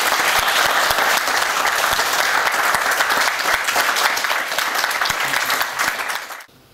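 Loud, sustained applause from a crowd at a martial arts black belt grading ceremony, dense steady clapping for several seconds that tapers and cuts off abruptly near the end.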